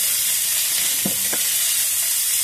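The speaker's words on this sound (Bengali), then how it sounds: "একটু গোটা জিরে ফোড়নে দিয়ে দিচ্ছি, ওর মধ্যেই দিয়ে দিচ্ছি, ভাজা হয়ে যাবে।" Whole cumin seeds crackle and sizzle loudly in hot oil in a pan, a steady close hiss with a couple of brief stirring knocks.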